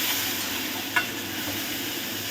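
Vegetables for chilli paneer sizzling steadily in a pan as soy sauce goes in, a constant low hiss with one brief splash-like flare in the middle, no talking.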